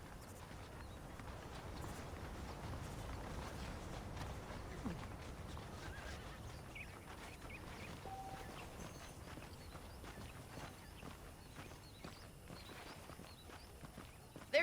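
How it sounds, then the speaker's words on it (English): Horse hooves clip-clop in a steady walking rhythm through the Red Dead Redemption video game, quiet and soft under a constant low outdoor ambience, with a brief whinny and no talking. "The horses are saddled up over here."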